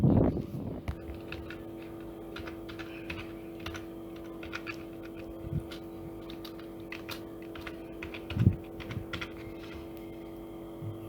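Typing on a computer keyboard, scattered quick key clicks over a steady electrical hum, with a couple of louder thumps near the start and around the eight-second mark.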